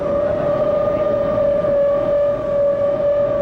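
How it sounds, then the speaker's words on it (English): Civil defense air raid siren sounding over Times Square, New York, during a daylight atom bomb drill: a loud, steady sustained wail holding a strong pitch with overtones, continuous throughout and alone, with no talk. "The siren's wail sends New York's inhabitants to shelter."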